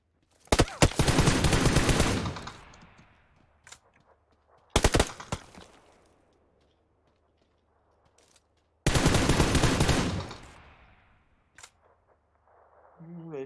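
Automatic M4 rifle fire rattles in PUBG in three long, loud bursts separated by near silence, with a few isolated single shots between them and a faint voice at the very end.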